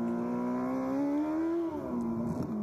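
A MotoGP racing motorcycle heard onboard as the rider holds the throttle, a steady high engine drone with a strong tonal whine that climbs slightly, then dips, loud and close.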